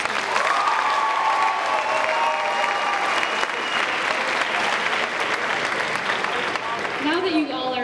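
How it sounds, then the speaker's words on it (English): Loud, sustained applause for costumed contestants at a school pageant show, a dense roar of clapping with crowd voices and a few whoops rising over it, fading slightly near the end. "Let's have a final round of applause for our contestants in their stellar costumes."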